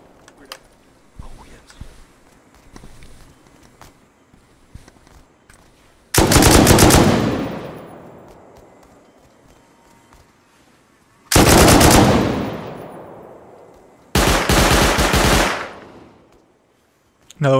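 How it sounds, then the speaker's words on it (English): Auto turrets in Rust Console Edition firing three loud, close automatic bursts, each a couple of seconds long and fading away, separated by quieter stretches with faint background sounds. "Turrets went off a lot."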